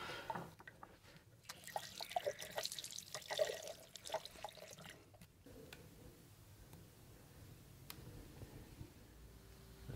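Water from a bathroom tap running into water balloons, with an awkward, poor fit on the faucet. Faint, soft trickling and dripping with small ticks and splashes throughout, quiet and continuous without any talking.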